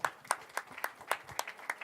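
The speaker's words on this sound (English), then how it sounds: "everybody give a big round of applause for Tor with the Enigma project." Sparse, faint claps from a small audience at a blockchain meetup, a handful of distinct hand claps at an uneven rhythm.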